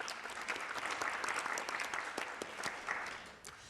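An audience at a Poetry Out Loud recitation contest in a hall gives a round of applause, with steady mixed claps that hold for several seconds and then begin to fade.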